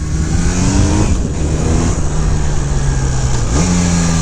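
A 1981 Honda CM400T motorcycle engine revs loudly and steadily up close, its pitch rising and falling through a few throttle blips, with no talking.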